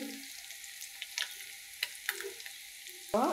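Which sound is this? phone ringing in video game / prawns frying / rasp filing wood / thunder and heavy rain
prawns frying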